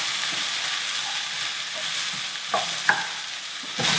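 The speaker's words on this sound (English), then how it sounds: "Give it a little toss over, get it all coming through. Another good reason for doing it in a wok." Mixed vegetables with courgette stir-frying in a hot wok, a steady close sizzle broken by a few sharp clatters and scrapes as the food is tossed over.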